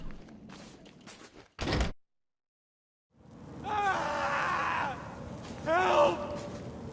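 An in-game character in Batman: Arkham City lets out two strained, wavering screams in quick succession after a short silence, over a low background of game ambience.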